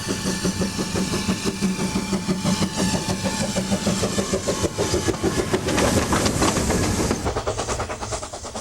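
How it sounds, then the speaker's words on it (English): A narrow-gauge steam train on the Vale of Rheidol Railway runs loud and close, with a rhythmic chuffing beat and rolling rail clatter that continue steadily with no talking. "The railway provides a 12-mile journey by a narrow-gauge steam train through picturesque wooded glens and wide green valleys."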